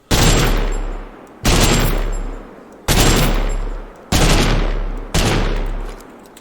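An assault rifle in the video game TABG fires in five loud, rapid-fire bursts, each about a second long, separated by brief pauses, close and dominant with no talking.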